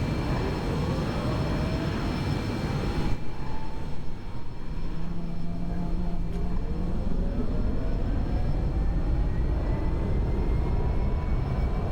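Aircraft engine number one spooling up in the X-Plane 11 flight simulator, a steady broadband roar with rising whine tones that lifts into a fuller, continuous drone after a few seconds.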